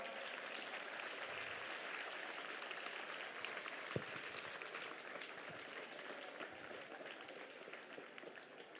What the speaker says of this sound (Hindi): अपने स्कूल के लिए ताली बजा के दिखाओ